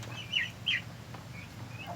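A male turkey on a rural Isan backyard farm gives two faint, quick calls, with softer distant bird sounds over low background hum.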